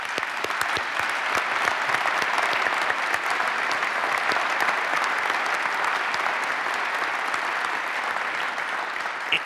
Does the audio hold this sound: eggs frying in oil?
no